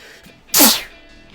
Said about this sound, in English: Sorry for the sneeze.